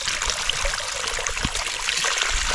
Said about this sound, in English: And then we'll fill it up